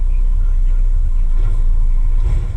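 Vehicle engine coasting off the throttle, a low, steady rumble with broadband road and wind noise close by, no one speaking.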